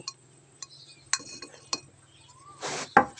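Fired clay pottery tapped by hand, giving several light ringing clinks spaced apart, close and fairly quiet, followed by a brief rustle near the end.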